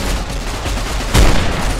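Loud, continuous gunfire in a Fallout New Vegas VR multiplayer match, a steady rattle of rapid shots with a heavier boom near the middle, close and dense with no voices over it.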